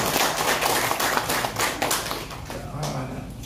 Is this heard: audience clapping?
yes